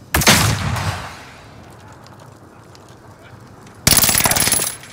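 Automatic gunfire in Call of Duty: Modern Warfare, two loud, close rapid bursts separated by a quieter stretch of game ambience and faint radio-style voice chatter.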